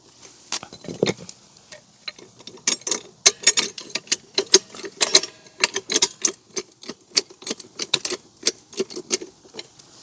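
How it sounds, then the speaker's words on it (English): A hydraulic jack is pumped to lift a single-axle trailer, giving a rhythmic series of sharp metallic clicks and clanks, close and clear with no talking. "make sure that the jack's valve is closed so that the jack operates as it should"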